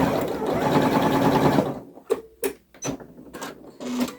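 A sewing machine fitted with a narrow walking foot runs a steady, fast stitching burst for about two seconds, then gives several short start-stop bursts with pauses between, close and fairly loud.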